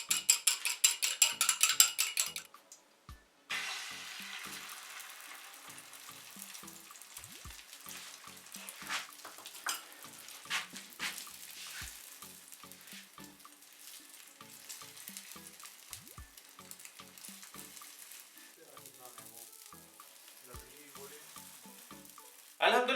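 An egg fries in cooking oil in a pan, a soft continuous sizzle with faint crackles and occasional scraping clicks, close by, following a brief louder burst at the start.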